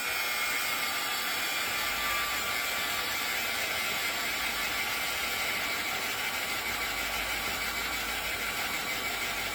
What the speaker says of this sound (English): Quick and easy heat tool.